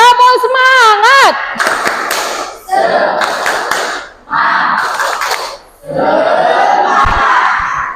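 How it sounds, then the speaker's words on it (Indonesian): A classroom group does a rhythmic spirit clap, chanting together and clapping in patterned bursts separated by short gaps, loud and close, with voices shouting along at the start. "Tepuk semangat."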